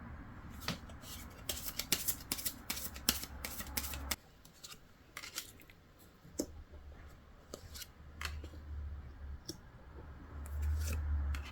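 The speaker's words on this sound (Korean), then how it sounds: "그러면 순서를 정하기 위해 4장의 카드를 놓겠습니다." Tarot cards laid out on a table make quick crisp snaps, slides and clicks, clustered at first and then scattered, faint and close against a low background hum.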